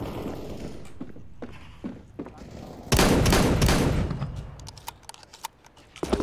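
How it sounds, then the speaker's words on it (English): An automatic shotgun fires in the video game CS:GO, a burst of loud blasts after quieter mechanical clicks and footsteps, followed by further scattered shots and clatter. "I love this shotgun because it's like automatic in a way."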